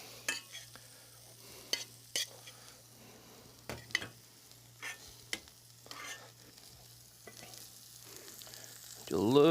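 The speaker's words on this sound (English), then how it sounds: "Gently stir that in." Chopped chives stirred gently into a warm dish during a holiday cooking demo, with faint sizzling and intermittent soft spoon scrapes and clicks, and a louder burst of noise at the very end.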